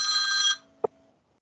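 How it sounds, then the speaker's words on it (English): A telephone ringtone trills loudly and steadily for about half a second during a mentor briefing call, then cuts off with a single sharp click and a faint fading tone. "someone's got a good ringtone"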